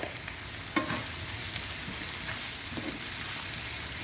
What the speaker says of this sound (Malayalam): സവാള പെട്ടെന്ന് ഫ്രൈ ആയി കിട്ടാനായിട്ട് അത് ഹെൽപ്പ് ചെയ്യും